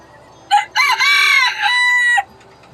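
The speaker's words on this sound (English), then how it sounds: "Gonna be really loud with the chicken right by my ear." A rooster crows loudly and close by inside a barn, one long harmonic crow with a brief cluck before it, standing alone without talk.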